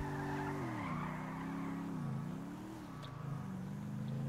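Classic car in the GTA 5 video game, its engine droning with shifting pitch as tires squeal and skid through turns, steady and moderately loud, no talk.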